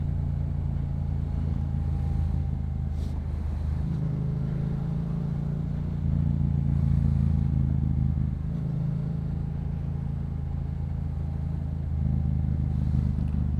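A Yamaha MT-07 motorcycle engine drones loud and close while lane filtering through heavy commuter traffic, a steady low rumble with slight rises in revs and faint passing vehicle noise.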